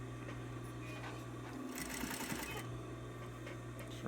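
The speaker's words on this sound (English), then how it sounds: "sewing your 2 pieces together and making sure that your fabrics edges all stay together" A sewing machine stitches two pieces of fabric together. Its motor hums steadily close by and quietly, with a brief, busier burst of stitching in the middle.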